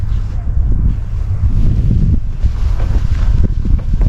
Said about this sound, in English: It was really windy that day.